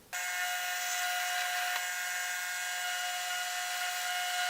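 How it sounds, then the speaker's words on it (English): A steady, high-pitched electric whine runs continuously and close by, like a small power drill boring holes into a guitar head plate, with a faint constant hum beneath. "Alright, so I'm pretty much ready to drill."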